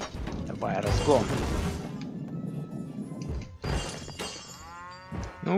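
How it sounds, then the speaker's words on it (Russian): Cow lowing in the Rock of Ages 2 video game, a couple of short moos and bellows mixed with crashing impacts and game noise, with someone talking over it. "Ну, еще корову нацепил."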